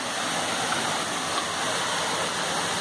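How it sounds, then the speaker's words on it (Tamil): Waterfall at Valli Chunai near Kumarakovil, Kanyakumari, a dense, steady rush of falling water, loud and close throughout with no break. "உள்ள அருவி இருக்கு."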